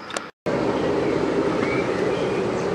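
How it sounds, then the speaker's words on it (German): Steady rumbling of a tourist road train rolling along toward Drachenburg castle in Königswinter, Germany, a continuous low mechanical drone with rattling, after a brief cut at the start. "Da sind diese Züge, die dann Richtung Drachenburg fahren."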